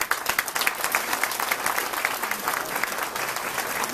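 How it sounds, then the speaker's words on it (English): Audience at a Tea Party political presentation breaks into dense, sustained applause, a steady crackle of many hands from a mid-sized crowd, close and fairly loud. "I want a round of applause for Orly is deserved."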